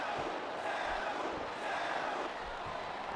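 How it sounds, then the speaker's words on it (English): A video-game wrestling crowd from WWE SmackDown vs Raw keeps up a steady, dense roar of shouting and cheering throughout, with no distinct voices standing out. "The crowd is certainly giving these superstars a piece of their minds."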